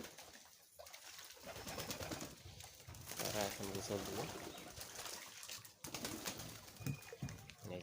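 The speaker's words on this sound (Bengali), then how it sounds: "এই যে আসতেছে কবুতর" Pigeons flock in to bathe in water on a winter day, their soft cooing and occasional wing flaps faint in the background while someone talks over them.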